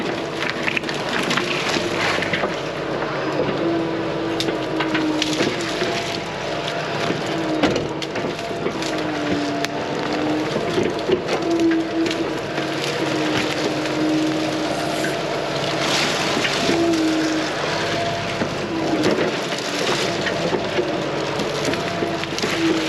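A Komatsu PC88 excavator pulls trees while clearing wet, sloppy land. Its engine drones steadily throughout, overlaid by repeated cracking and splintering of wood and the rumble of hydraulic strain at moderate distance.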